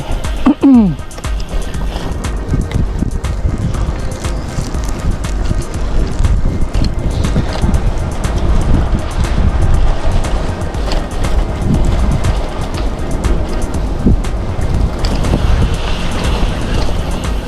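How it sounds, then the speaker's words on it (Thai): Wind buffets the microphone during a ride along canals near Bangkok, a continuous loud low rumble with gusty surges, while someone talks intermittently over it. "ลมดีนะครับวันนี้ลมดี"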